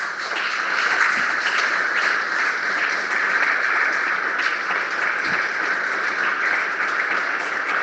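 Steady, sustained applause from a church congregation, a dense even wash of clapping that holds for the whole stretch with no voices over it.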